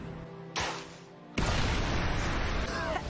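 A bomb explodes in a film scene with a sudden loud blast, followed moments later by a second, heavier roaring burst that rumbles on as a sustained wash of noise.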